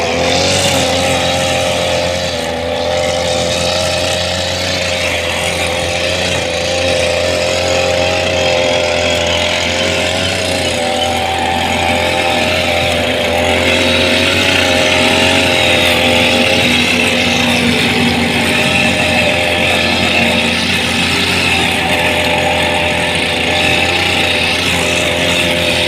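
An engine-powered nylon-line grass cutter runs continuously in a garden nursery, producing a steady, loud, high-pitched motor whine with a faint wavering quality that holds for the full duration without pause.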